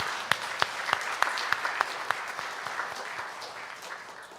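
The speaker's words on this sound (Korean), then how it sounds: "한번 크게 박수 한번 해주세요" Church congregation applauding during a Sunday service, a steady wash of clapping with a few sharp, prominent claps near the front early on, easing gradually toward the end.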